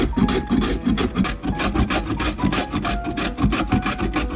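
Potatoes and carrots are julienned by hand, making a steady run of quick, close, rasping strokes in an even rhythm, loud and without any talk.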